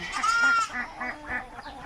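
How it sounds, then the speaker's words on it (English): A white goat at a farm bleats loudly and close by, one long wavering call followed by a few shorter pulsing cries, with no talking. "That white goat keeps getting out."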